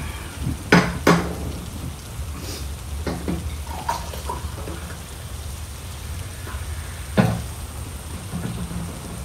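Steady rain falls in a rural setting where beef bone soup is being cooked, making a constant close hiss with a few louder knocks and taps. No one speaks.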